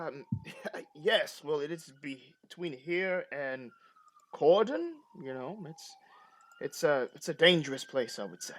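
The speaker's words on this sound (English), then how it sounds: "They got police sirens going all over." A police siren wails in the background, a long, slowly falling and rising tone running faintly beneath a conversation between people.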